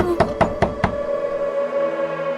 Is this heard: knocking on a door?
yes